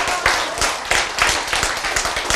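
An audience claps together at a health lecture about chemotherapy, a brisk run of sharp overlapping handclaps, close and fairly loud, with no talk.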